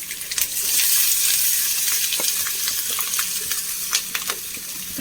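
Curry leaves, green chili and finely chopped ginger fry in hot oil in a pan, giving a loud, steady sizzle with crackles and pops, for a dish made with ripe brindle berry.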